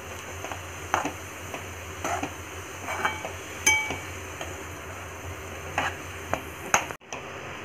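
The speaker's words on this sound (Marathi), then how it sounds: "चांगला परतवून घेऊया।" Cabbage and chana dal are stir-fried in a pan: a soft, continuous sizzle punctuated by scattered clinks and scrapes of a spatula, with no talking.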